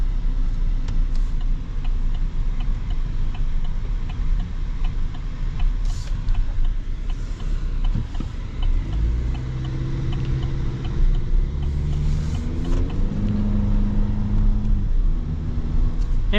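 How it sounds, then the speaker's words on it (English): A 2024 Chevy Silverado TurboMax full-size pickup with a turbocharged four-cylinder engine accelerates, its steady cabin drone rising through shifts as engine pitch climbs and resets, heard from inside with a faint ticking. "for a turbo 4-cylinder in a full-size pickup truck, it ain't too bad when it comes to the acceleration"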